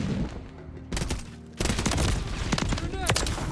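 Gunfire rattles through a Call of Duty MWIII beta multiplayer match in dense, loud bursts of rapid automatic shots and booms, continuing with only brief lulls.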